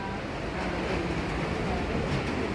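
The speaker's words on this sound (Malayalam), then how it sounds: "ഇപ്പോൾ ഒരു ഗുഡ്സ് ട്രെയിൻ വന്നിട്ടുണ്ട്" A goods train at a railway station gives a steady, loud rumble of heavy rolling wagons that holds even throughout, with no pauses or distinct clanks standing out.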